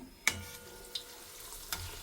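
Chicken donuts frying in oil, with a low steady bubbling under three sharp clicks of a metal spatula against the pan, spaced well apart.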